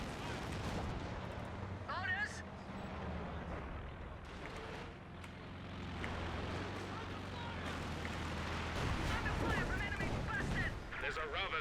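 Katyusha rocket artillery pounds a blob of infantry in Company of Heroes 2, a continuous dense rumble of launches and impacts that stays loud throughout. A voice talks over the barrage.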